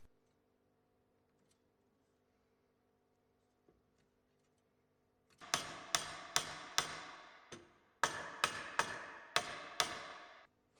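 A hammer drives wooden wedges into the joints of a timber window casement, about a dozen sharp, close, evenly paced knocks in two bursts after a quiet start.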